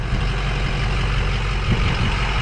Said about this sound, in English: Exhaust sounds really nice too.